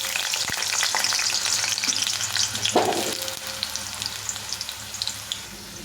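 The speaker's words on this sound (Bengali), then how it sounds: "তেলটা গরম হয়ে গেছে, তেলে আমি আলুটাকে একটু ভিজে নেব লাল লাল করে।" Potato pieces frying in hot oil for a soy bean recipe, a steady crackling sizzle throughout, close and fairly loud, with a brief stir or clatter midway.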